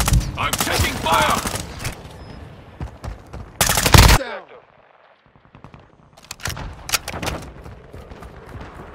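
Rapid automatic gunfire and bursts of shots in Call of Duty Modern Warfare 2, loud and dense for the first four seconds, then a brief lull before scattered shots return, with a voice heard amid the combat.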